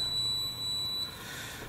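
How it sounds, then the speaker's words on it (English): A digital multimeter set to continuity mode, used while testing electric floor heating wire, gives a steady high-pitched tone lasting about a second, clear and close, then stops. "I'm going to set this to the alarm. It's going to make a sound if you touch these together."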